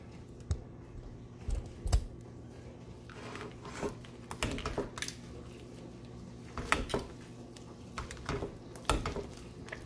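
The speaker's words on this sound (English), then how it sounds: "Just keep mashing" Garlic potatoes with butter being mashed in a pot, irregular sharp clicks and scrapes of the masher against the pan in scattered bursts over a quiet background.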